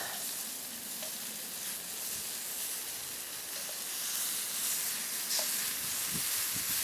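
Thin slices of dry-cured bacon fry in a pan with a steady, close, crackling sizzle that holds at an even level throughout, with no talking.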